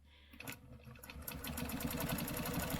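A sewing machine stitches lines across a quilt, starting with a few halting stitches and then running in a fast, steady mechanical whir, quiet and close.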